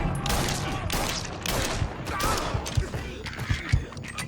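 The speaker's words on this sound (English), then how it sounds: "Shoot him for fuck's sake" Gunfire rattles through a Mafia 3 cutscene firefight: rapid, dense volleys crackle at close range, with sharper individual shots popping out toward the end and voices shouting underneath.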